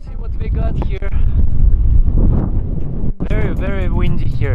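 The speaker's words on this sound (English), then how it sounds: "Very windy here." Strong wind buffets the microphone in a steady rumbling roar, with a voice speaking over it.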